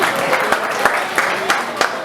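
A crowd applauding at a blood donation camp event, with sharp scattered claps over a steady wash of clapping and some voices mixed in.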